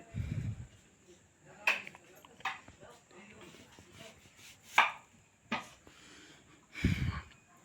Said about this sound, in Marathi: हे कांदे कापत राहते